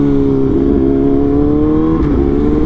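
A Kawasaki ZX6R motorcycle engine and exhaust, loud and close, holding a steady high-revving drone that climbs gradually, with a brief shift-like dip near the end.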